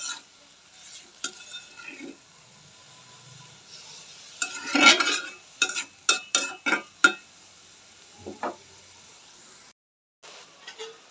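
Spice mixture being stirred into cabbage in a pan, with a faint sizzle and a run of sharp clinks and scrapes from a spoon against the metal, loud in bursts and then quiet.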